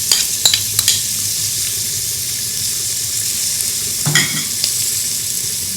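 Onions sautéing in a pan for jeera rice, a steady loud hiss of frying throughout, with a few soft clinks and scrapes of stirring near the start and again toward the end.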